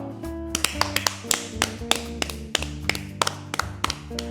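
Close, loud taps and thumps in an irregular rhythm, likely hands clapping, with a low sustained hum running underneath.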